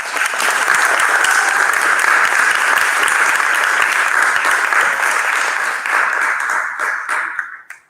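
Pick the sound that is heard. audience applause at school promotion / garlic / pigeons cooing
audience applause at school promotion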